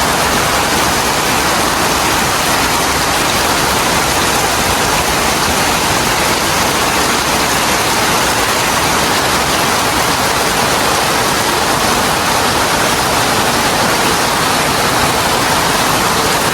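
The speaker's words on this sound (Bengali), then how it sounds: "অনেক বৃষ্টি হইতেছে।" Heavy rain pours down on a Bangladeshi village, a loud, dense, unbroken rushing wash that fills the whole stretch without pause, with no voices heard.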